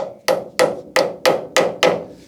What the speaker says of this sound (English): And then I just need to fit it into that hole straight and then tap it in.